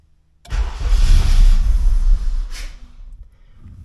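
A car engine cranks and catches after fitting and programming a set of Hunter Tuned budget fuel injectors, a loud broadband burst that runs about two seconds before settling lower and rougher, with no voices.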